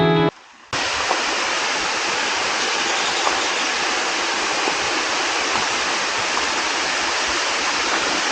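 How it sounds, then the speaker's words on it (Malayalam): A loud, unbroken roar of rushing water from Palurkotta Waterfalls in Malappuram fills the clip after a brief cut near the start, a steady waterfall-like hiss. "ഇത് അങ്ങകലെ കാണുന്ന വെള്ളച്ചാട്ടത്തിലേക്ക് നമ്മളിപ്പോൾ കയറാൻ പോകുന്നത്."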